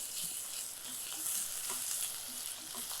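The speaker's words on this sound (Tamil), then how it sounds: "இஞ்சி பூண்டு பேஸ்ட்டு இதை சேர்த்துட்டேன். இப்போ இதோடு சேர்ந்து வதங்கணும்." Ginger garlic paste sautés in a pan with a steady bright frying sizzle, dotted with faint spoon scrapes while the mixture is stirred.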